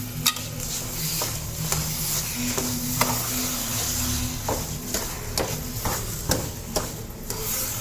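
A spoon stirs chana dal halwa with milk and sugar in a sizzling pan, making repeated scraping strokes in an uneven rhythm over a soft bubbling hiss, close up, with no talking.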